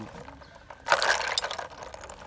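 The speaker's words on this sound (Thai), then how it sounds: "คือน้ำเย็นเข้าเสียงนี่นะครับ" Cold water gushes and splashes into a pot after a quiet start, a sudden close pour that tapers off gradually.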